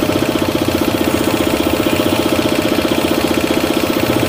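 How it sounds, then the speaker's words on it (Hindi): An air compressor runs steadily with a rapid, even pulsing throb and a broad hiss of air escaping from a leaking autocut valve, loud and close, with no voices. "कंप्रेसर स्टार्ट करता हूँ, ये कंप्रेसर स्टार्ट करते हैं"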